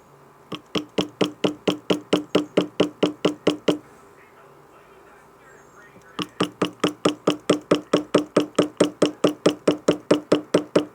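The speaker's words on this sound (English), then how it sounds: "Then we're going to grab our rubber mallet here. And we are going to tap." Steady rapid taps of a rubber mallet on a white gold ring, two long rhythmic runs separated by a brief pause, close and crisp.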